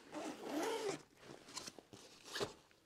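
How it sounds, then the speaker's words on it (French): The carrying bag of an I-Loview portable video magnifier is unzipped, giving a close, rasping zipper pull followed by a few softer scratchy tugs and rustles of the fabric case. "nous allons ouvrir la sacoche de transport"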